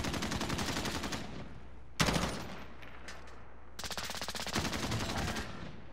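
Rapid bursts of video game gunfire crackle in dense automatic volleys, broken by brief pauses and a sharp louder shot, close and loud with no talking.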